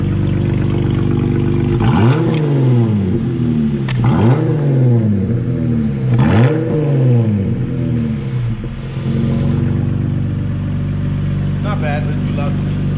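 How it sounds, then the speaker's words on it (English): A stock 2021 Jeep Gladiator with its exhaust removed, straight-piped from the catalytic converters to the headers, revs loudly several times in quick bursts, then settles into a rough, rumbling idle. "That's a stock Gladiator with no exhaust, straight pipe."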